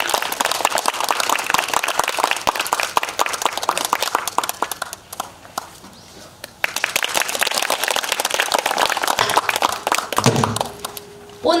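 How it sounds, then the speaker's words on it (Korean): Audience applause welcomes a pansori singer at an outdoor arts festival at Donggureung, dense clapping running about five seconds, a brief lull, then another swell of clapping before the performance begins. "여러분 큰 박수로 맞아주시죠."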